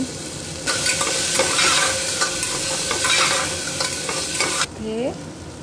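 Vegetables fry in a pan with turmeric and salt, a loud, dense sizzle rising sharply and holding steady with stirring scrapes, then dropping away abruptly near the end.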